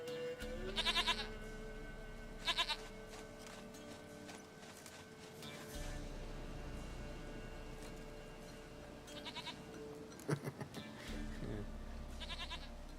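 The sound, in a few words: goat bleating in video game The Witcher 3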